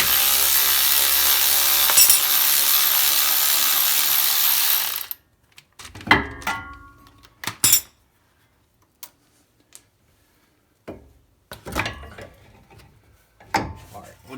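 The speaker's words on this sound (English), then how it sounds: "get this bolt off of here that holds the brake line to the strut" Ratchet wrench loosening the bolt holding the brake line to the front strut of a Honda Ridgeline, heard as a long continuous rasping run followed by short clicking bursts and metallic knocks with pauses between them.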